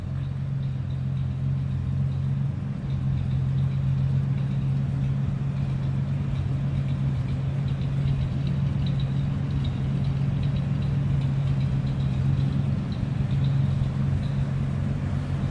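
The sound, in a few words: 1946 Lincoln Continental V12 engine idling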